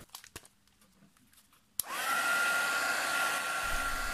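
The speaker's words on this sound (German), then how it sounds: "Und diese Kleckse trockne ich dann ebenfalls nochmal mit einem Embossing-Föhn." An embossing heat gun switches on with a click and blows a steady loud whooshing roar close by while drying paint blobs on a handmade card, after a few quiet handling taps.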